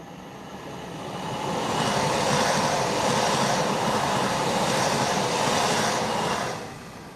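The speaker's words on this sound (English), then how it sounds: "Is there any trains coming? Yes, right now." A train rumbles past close by, a loud, steady roar of wheels and cars that swells, holds for several seconds, then begins to ease off.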